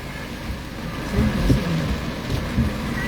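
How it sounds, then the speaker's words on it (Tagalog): Heavy rain pouring during a typhoon in the Philippines, a dense steady hiss with low rumbles and gusts, close and loud with no talking. "Ang lakas ng ulan"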